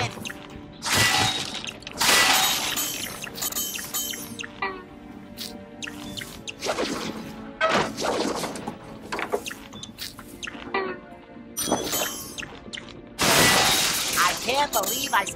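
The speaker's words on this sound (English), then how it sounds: "I can't believe I smashed the whole thing." Objects smashing to pieces in SpongeBob's Truth or Square video game: several loud, crunchy shattering bursts scattered through the stretch, with quieter clattering and crumbling in between.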